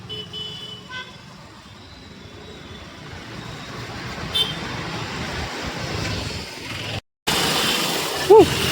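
A car driven by an older father rolls along a road, with a steady engine and road rumble that holds through the drive, a brief horn toot near the end, and people talking over it.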